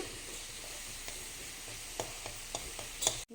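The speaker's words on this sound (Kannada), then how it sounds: "ಶುಂಠಿ ಬೆಳ್ಳುಳ್ಳಿ ಪೇಸ್ಟ್ ಹಾಕ್ತಾ ಇದ್ದೀನಿ ಹಾಕ್ಬಿಟ್ಟು ಅದನ್ನು ಚೆನ್ನಾಗಿ ಹುರಿಯಬೇಕು" Ginger garlic paste frying in a pan for chana masala gives a steady, faint sizzle, broken near the end by a few soft scraping taps of stirring.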